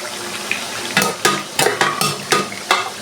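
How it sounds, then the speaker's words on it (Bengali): Spices being fried and stirred in a pan for a vegetable dish, with a steady sizzle and about half a dozen sharp scraping strokes of a spoon against the pan in an uneven rhythm, close by. "এখন মশলা কষানো চলছে"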